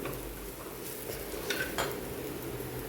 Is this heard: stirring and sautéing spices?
yes